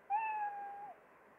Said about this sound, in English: so it will show you meow.